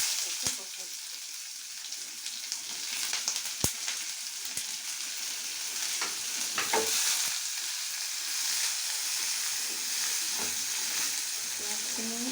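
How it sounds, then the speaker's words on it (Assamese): Chopped onions sizzle steadily in hot oil in a pan while being cooked for raw-banana kofta, with a constant close frying hiss and scattered clinks and scrapes of a spoon stirring. "এতিয়া মই কুটি লোৱা পিঁয়াজখিনি বহাই দিছোঁ।"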